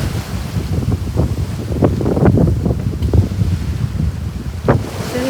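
Steady wind roars and waves slosh and surge around a sailboat running solo from Ua Pou in the Marquesas toward Tahanea atoll in the Tuamotus, with close, continuous noise and occasional louder wave splashes.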